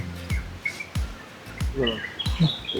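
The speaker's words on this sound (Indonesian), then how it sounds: "Masih banyak suara burung ya" Birds chirp in short bright calls at several distances on an Indonesian island, while faint voices murmur and light knocking sounds break in intermittently.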